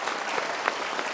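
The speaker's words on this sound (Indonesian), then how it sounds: "Kita berikan tepuk tangan sekali lagi." A studio audience on a talk show gives a brief burst of applause, even and fairly faint, with dense overlapping claps.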